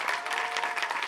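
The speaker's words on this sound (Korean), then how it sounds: "자, 박수 한번 쳐주세요" A Korean chapel congregation at a prayer meeting claps together in a brief, dense burst of applause that sounds fairly close and even.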